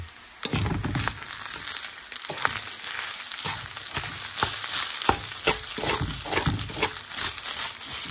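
Food sizzles steadily in a Filipino-style frying pan while a utensil stirs and scrapes through it in repeated close strokes, with no talking.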